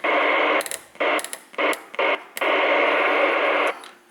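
Loud broadband static hisses from a radio tuned to FM. The noise cuts in and out in short bursts before holding steady, then drops out near the end, with faint clicks at the breaks.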